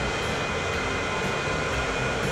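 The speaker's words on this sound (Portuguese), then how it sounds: "Olha ali o trem do alimento ali" In Transport Fever 2, a freight train carrying food passes with a loud, steady broadband rumble and roar that stays continuous, with no voices on top.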